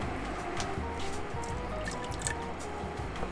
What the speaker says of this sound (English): Then I'll add 5 more cups of water.